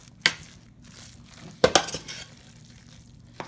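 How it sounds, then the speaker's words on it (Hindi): Mashed food being mixed in a pan, with a few sharp spoon scrapes and knocks against the metal spaced out over a quiet background. "तो सब चीज़ों को मिक्स कर लेंगे।"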